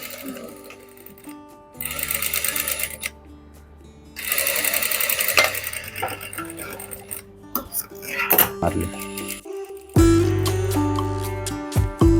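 A sewing machine stitches a boat neck dress in bursts, its rapid needle clatter starting and stopping several times, with brief pauses, small clicks and handling noise between runs.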